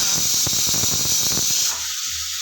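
Dried curry leaves sizzle and crackle in hot oil, a steady close hiss with scattered pops that drops away abruptly near the end, leaving only faint low hum.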